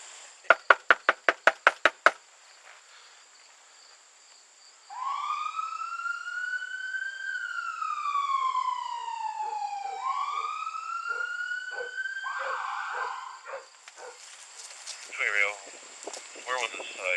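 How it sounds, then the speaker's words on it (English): A police car siren wails in long rising and falling sweeps, loud and close, after a quick burst of sharp knocks, ending in a few scattered noises. "she can hear the siren right now"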